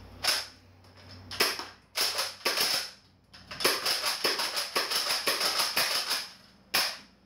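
A homemade modded Nerf Retaliator blaster with a pump grip fires a rapid series of sharp snapping shots with a few separate single cracks between bursts, loud and close with no talking.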